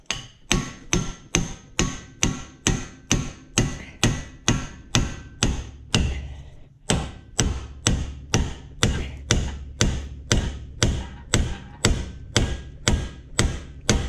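Repeated hammer blows strike a ball joint splitter on the front suspension of a Lexus LS400 or Toyota Celsior, with about twenty loud, evenly spaced metallic hits and a brief pause around the middle, with no talking.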